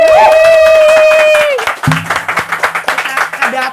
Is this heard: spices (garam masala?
no